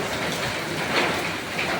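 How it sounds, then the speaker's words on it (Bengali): Heavy rain from Cyclone Remal pours down in Chittagong in a steady, dense hiss, loud and close, with no breaks throughout. "অনেক বৃষ্টি হইতেছে বৃষ্টি তুফান বাতাস বেশি বেশি"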